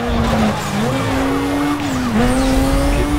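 A car in the racing video game Need for Speed Most Wanted revs hard and skids, its engine note climbing and wavering over a continuous tire squeal, loud and close throughout.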